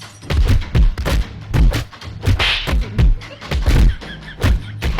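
A rapid series of sharp slaps, roughly a dozen sharp smacks in quick succession, loud and close with muffled shouts between them.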